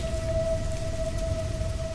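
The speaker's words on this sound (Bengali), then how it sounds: "বৃষ্টি টিপটিপ করে পড়ছে।" Light rain patters steadily with a soft hiss, faint and continuous, under a low steady tone.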